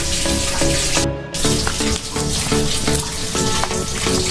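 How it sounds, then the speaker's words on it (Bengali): Chicken nugget mixture is mixed by hand, producing wet, squelching, stirring noises that run almost continuously, broken by a brief pause, under background music. "এখন আমি এটা মিক্স করব"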